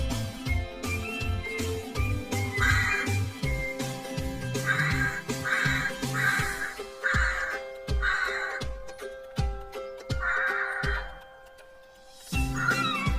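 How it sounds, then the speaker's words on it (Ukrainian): Harsh, repeated caws from rooks sound in bursts over steady background music, several calls close together in the middle and another near the end. "Найпершими у березні прилітають граки."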